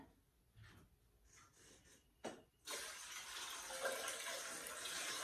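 Water streams into a metal bowl, a steady loud hissing rush that starts abruptly after a few soft clinks and handling sounds and continues to the end.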